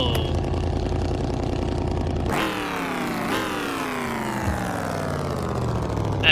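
A Ford F250 ramp truck's engine starts up and roars loudly near the microphone, revving up sharply twice in quick succession before settling into a loud, rough running note.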